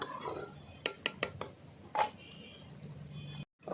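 A spoon stirs chicken gizzard curry in a cooking pot, giving several sharp metallic clanks and scrapes against the pot, spaced irregularly over a low background hum.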